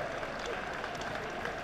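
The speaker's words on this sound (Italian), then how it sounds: "Fatevi un applauso" Brief, dense audience applause at a closing ceremony in Udine, a steady wash of many hands clapping with no voices standing out.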